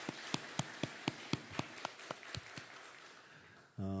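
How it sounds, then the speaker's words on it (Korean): A church congregation applauds during a Sunday service, heard as a faint, slow, evenly spaced run of single claps that fades out, followed by a brief sustained tone at the end. "우리 하나님 앞에 영광의 박수 다시 올려드리겠습니다."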